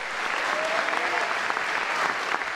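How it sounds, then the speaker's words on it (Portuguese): A church congregation at a youth congress claps steadily, a continuous and even round of applause with faint voices underneath. "Isso aí é para Jesus que você está dando essas palmas, amém?"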